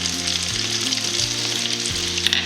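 Sautéed vegetables fry loudly in a pan as flour is added, a dense continuous sizzle with a low hum underneath and no talking.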